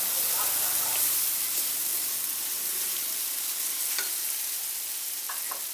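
Fried moong dal is stir-fried with spices in a pan for a Bengali lau ghonto, a close, steady sizzle with scraping stirs and a couple of sharp clinks, no talking.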